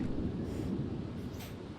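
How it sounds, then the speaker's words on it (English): Rumbling thunder from a storm in The Sims 3 video game, a low continuous roll with faint rain-like hiss, steady and moderately loud throughout. "Don't tell me it was the thunder, wasn't it?"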